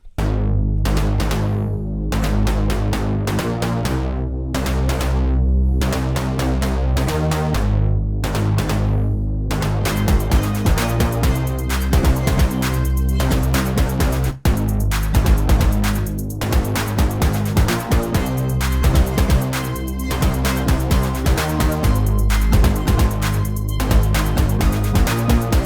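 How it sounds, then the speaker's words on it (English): Layered synth basses, a saw wave bass stacked with a plump bass, in an electronic pop drop in Ableton, with dense sustained low end. Sparse, gappy hits open the passage, then a full continuous layered groove drives loud and steady throughout. "I pair this with a couple of the other basses, such as the saw wave bass that we had from earlier"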